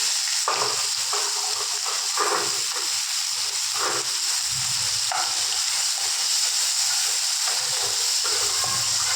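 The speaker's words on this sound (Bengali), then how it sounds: "পেঁয়াজটা আমি লাল লাল করে ভেজে নেব।" Chopped onion and tomato fry in leftover fish oil for a Bengali fish curry, giving a steady loud sizzling hiss throughout with occasional soft stirring scrapes.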